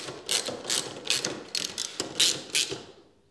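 A ratchet tightens bolts on a Royal Enfield Classic 350 motorcycle, with close clicking bursts in a steady stroke-by-stroke rhythm that fade out at the end.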